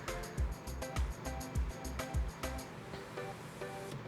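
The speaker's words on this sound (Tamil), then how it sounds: "இப்போ பார்த்தீங்கன்னா விசில் வந்துருச்சு" A pressure cooker cooking mutton releases steam in a steady, close hiss with rhythmic puffing pulses about every half second.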